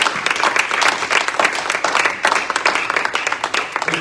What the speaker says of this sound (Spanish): Den un aplauso al Señor Jesús.